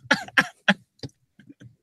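A person coughs three times in quick succession, close and sharp, followed by a few softer throat-clearing coughs and small breathy sounds.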